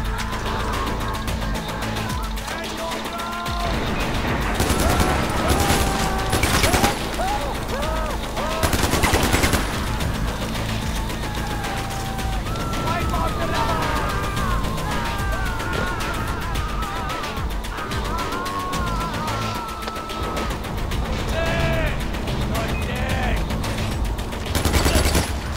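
Sustained Far Cry 4 gunfire, loud machine-gun bursts and scattered shots roaring almost without pause, with a few sharper blasts standing out and faint voices now and then.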